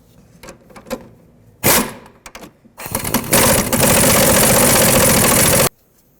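A power tool whirs up and runs steadily for a few seconds, driving the nut down on a rear sway bar link of a 2001-2007 Toyota Highlander, after some clicks and handling noises nearby.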